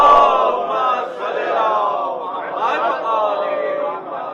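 A congregation at a Shia majlis loudly recites salawat in unison for Imam Hasan, a sustained chorus of many voices filling the hall for several seconds with gentle swells.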